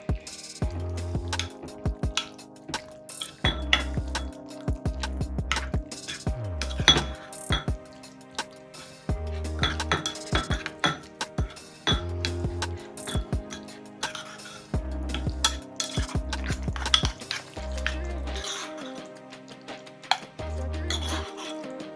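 Tuna sandwich filling being mixed in a bowl, heard as repeated clinks and scrapes of a utensil against the bowl in irregular bursts, close and clear, under a louder musical backing with no talking.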